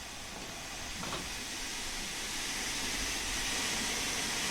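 A steam locomotive in Train Sim World 2, on the Spirit of Steam Liverpool to Crewe route, gives a continuous broad hiss of steam as power is applied, steady and gradually swelling, with no voices.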